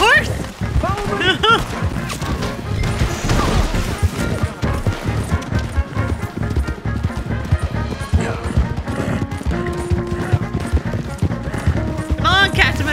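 Horse hooves clip-clop in Red Dead Redemption 2 as a rider mounts and sets off, a quick rhythmic patter running under game music, gunfire and character voices.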